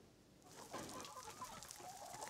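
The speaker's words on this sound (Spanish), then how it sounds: "Allí las gallinas viven felices." Free-range hens on a mountain farm cluck softly and intermittently, a small flock heard at low level with overlapping calls and no voices.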